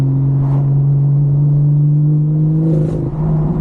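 BMW M240i with the B58 engine idling and revving in sport mode, a steady loud engine drone with a rise in revs near the end and a few crackling pops, heard from close by with the windows down.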